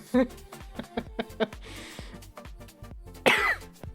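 A streamer playing a hoverboard game coughs repeatedly in short, close bursts, with throat clearing and a harsher fit near the end.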